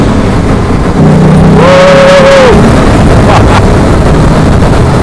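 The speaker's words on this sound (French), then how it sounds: "Si vous avez besoin de dépasser, ça accélère." Morgan Roadster with a 3.7-litre V6 accelerating, a loud, continuous engine roar that rises in pitch with a strong rush of wind across the microphone, no talking.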